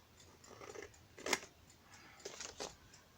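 Scissors cut paper a few times in short, crisp snips, quiet and close, with a sharp click in the middle and faint rustling between.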